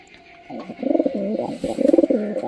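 A nesting pigeon coos up close, a soft, throaty run of warbling pulses lasting a couple of seconds, with no talk over it.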